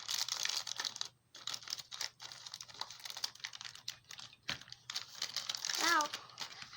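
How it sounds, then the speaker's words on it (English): A Num Noms toy package gets cut open with dense crinkling and snipping of plastic packaging up close, broken by short pauses, while a voice speaks briefly near the end. "Let's cut open this."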